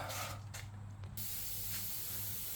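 A compressed-air wand blasting hiss and spray through the rear wheel of a Trek Verve e-bike during cleaning comes in short bursts and then runs as a steady loud rush, heard alone with no voices.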